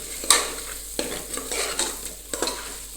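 A spoon stirs chili powder and dal into oil in a pan while cooking salted rice, with scraping strokes in an uneven rhythm over a faint sizzle, close and alone.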